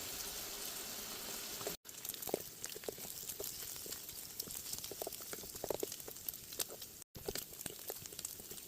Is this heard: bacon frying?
yes